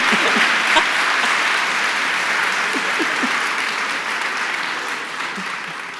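A large audience at a political conversation event with House Speaker Nancy Pelosi breaks into sustained applause, a dense, steady wash of clapping that holds strong for several seconds and eases off slightly toward the end.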